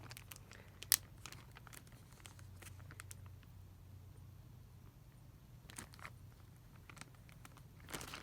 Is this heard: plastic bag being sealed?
yes